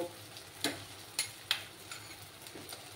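Ginger-garlic paste and tomato frying in a pan, a soft steady sizzle broken by a few sharp spatula scrapes and taps, close and fairly quiet.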